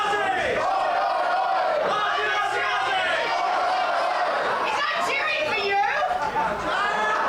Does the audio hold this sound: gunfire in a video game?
no